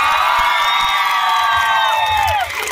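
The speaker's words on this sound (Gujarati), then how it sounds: "તો તમારા માટે એક વાર તાળીઓ વગાડી દો" A live studio audience at a long-running TV show's anniversary celebration cheers and claps loudly as a sustained crowd roar that stays near and full, then eases slightly at the end.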